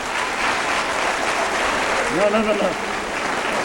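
Audience at a baccalaureate ceremony clapping steadily in a broad wash of applause, moderately loud throughout, while a voice speaks briefly over it near the end.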